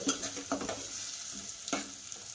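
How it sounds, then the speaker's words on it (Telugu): Onions and green chillies fry in hot oil as they are stirred, making a steady soft sizzle with a few louder scraping stirs near the start and another about two-thirds of the way through. "సో ఉల్లిపాయ పచ్చిమిర్చి అనేది నీట్గా దోరగా వేగాలండి. సో వేగే వరకు నీట్గా కలుపుకోవాలి."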